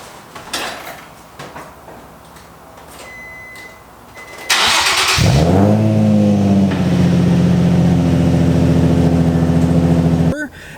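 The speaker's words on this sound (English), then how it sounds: "I'll put in a sound clip of what my car sounded like before." A Nissan 350Z with its original stock exhaust cranks and fires up about halfway through, then settles into a loud, steady idle close by until it cuts off just before the end; quieter noises precede the start.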